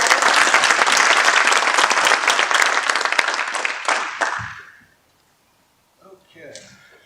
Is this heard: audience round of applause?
yes